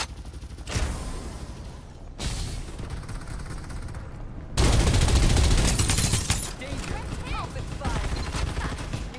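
Rapid bursts of gunfire from assault rifles and rocket launchers in the video game Farlight 84 crackle continuously and loudly, with heavier, denser volleys partway through and in-game sounds layered beneath.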